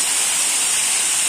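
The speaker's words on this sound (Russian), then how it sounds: "Вода идет со скважины 30 метров" Water from a 30 m borehole pouring through a degassing rack to strip nitrogen for fish, a loud steady close hiss of falling spray with no pauses and no voices.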